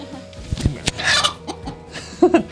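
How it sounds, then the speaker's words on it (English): A broody hen clucks in short, irregular bursts close by, with a few sharper squawks mixed in among rustling. "I have a broody hen."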